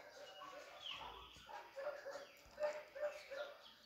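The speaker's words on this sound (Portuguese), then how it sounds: "os cachorros estão latindo aqui agora" Several dogs barking, yipping and whimpering at a distance, faint and intermittent beneath quiet talk in a room.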